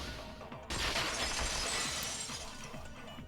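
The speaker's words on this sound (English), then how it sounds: "At the entrance hall, the girls heard the sound of the window shattering." Glass shatters in the video game Danganronpa Goodbye Despair, a sudden loud crash followed by a sustained bright spray of breaking shards that slowly fades, with no voices over it.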